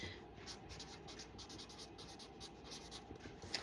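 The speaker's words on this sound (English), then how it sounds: "I'm going to write it in red marker so we remember it" A red marker writing on a board during a classroom lesson, giving a faint continuous squeaky scratching of strokes over a low hum of room noise, with no talking.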